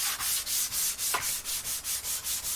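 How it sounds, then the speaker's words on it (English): A foam sanding sponge with 320 grit paper rubs back and forth on a Tele-style electric guitar body, a close, soft scratchy swish repeating in a steady rhythm of about four strokes per second. "Just using a foam back sponge and some 320 grit"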